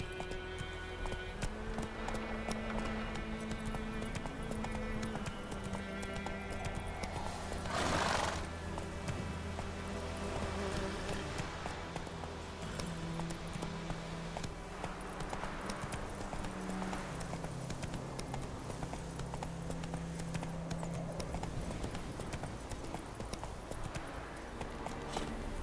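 Rhythmic clip-clop of a horse galloping in The Witcher 3, a steady fast hoofbeat pattern running throughout, set over a quiet game music bed with a brief whoosh midway.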